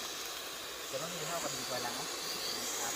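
Soft, steady sizzling and hissing from snail innards roasting in a hot pan, with a voice talking briefly underneath.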